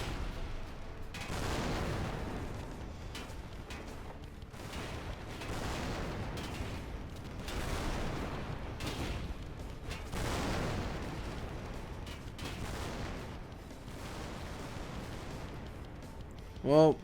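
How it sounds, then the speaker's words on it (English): Gunfire and ricocheting bullets in a Total Tank Simulator heavy tank battle, with repeated muffled bursts and rumbling impacts throughout, ending in a sharp louder crack. "besides the ricocheting bullets right now"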